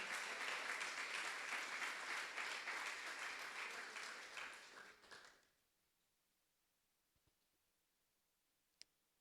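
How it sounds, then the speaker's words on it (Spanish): A church congregation claps loudly and steadily during a service, the dense applause holding for about five seconds before fading out into near silence with a couple of faint clicks. "Denle un aplauso fuerte al Señor."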